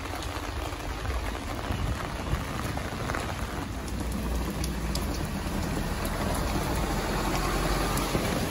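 Steady rain pours down at an outdoor market, a dense, even hiss of drops on surfaces that holds close and constant throughout with no other sounds standing out.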